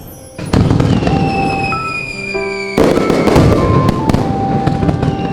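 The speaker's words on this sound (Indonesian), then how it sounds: "Lagian lu ngapain pakai petasan yang gede-gede kayak gitu sih?" Several loud, large firecracker blasts crack in quick succession on New Year's Eve in the game Avatar World, followed by crackling and whistling fizz as the bangs echo and fade.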